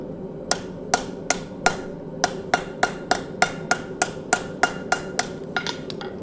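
A hammer strikes hot metal on a 248-pound double-horn German anvil during forging. About fourteen sharp, ringing blows land at a steady, regular rhythm, close and loud, with no speech.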